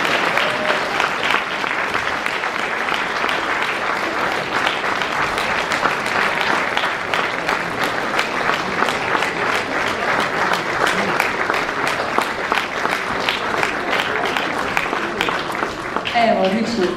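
An audience claps steadily throughout at a charity concert, a dense, sustained round of applause from a crowd heard close and loud.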